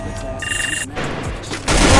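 Quick bursts of gunfire from the Free Fire mobile game ring out amid electronic game sounds, loud and close, ending in a heavier burst.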